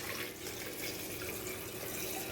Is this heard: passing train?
no